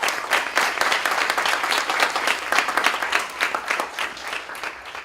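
Audience applause at a speaking event as the first speaker is welcomed: close, lively clapping from a crowd with clear individual claps, sustained throughout and fading slightly at the end.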